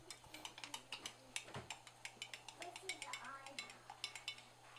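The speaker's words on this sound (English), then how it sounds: "So I'll just give it a quick stir now." A spoon stirring hot water in the glass chamber of a syphon coffee brewer, quick rhythmic clinks and taps against glass, faint and close, repeating steadily for a few seconds.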